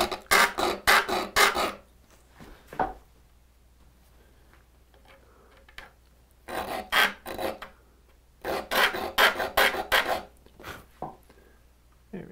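A file rasps across a saw tooth to sharpen it, heard as close, crisp strokes in quick rhythmic bursts of four to six, separated by brief pauses and an isolated tap.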